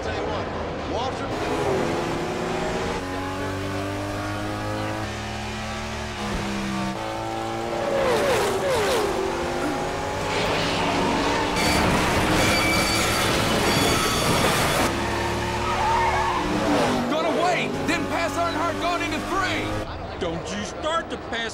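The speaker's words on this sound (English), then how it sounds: "Now Waltrip on the inside" Stock cars race around the Richmond track, their engines roaring and passing in loud sweeping waves over a continuous rumble while a commentator talks throughout.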